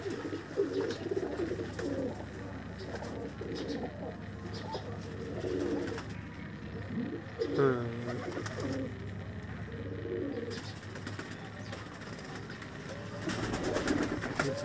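A pigeon with eleven tail feathers coos softly in repeated low, throaty phrases, close by, with faint background noise.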